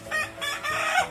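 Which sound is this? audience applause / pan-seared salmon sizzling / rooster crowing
rooster crowing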